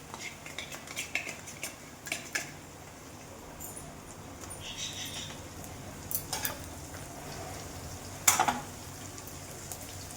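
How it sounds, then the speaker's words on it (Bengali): Ginger, garlic and chili paste with chopped tomato being fried and stirred in a pan for a fish curry, with soft sizzling under repeated clinks and scrapes of a metal spoon against the pot. "এর মধ্যে দিলাম আদা রসুন লঙ্কা পেস্ট, টমেটো কুচিয়ে দিয়ে দিয়েছি। এটাকে ভালো করে এখন কষাবো"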